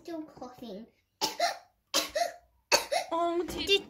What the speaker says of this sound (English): No, I'm still coughing.